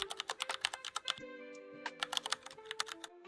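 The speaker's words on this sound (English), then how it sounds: "Type your email and the password." Fingers tap out an email and password on a computer keyboard, a quick run of close, crisp keystrokes with a brief pause midway before the typing resumes.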